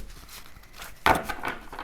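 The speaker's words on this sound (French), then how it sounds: "En train de déchiqueter les morceaux de carton." A cat shreds cardboard: faint scratching and tearing, with a sharper rip in the middle, soft and close.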